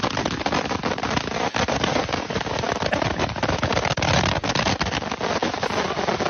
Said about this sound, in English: Someone has filled, I think, like an old oil can with 1 billion fireworks, and it looks like a flamethrower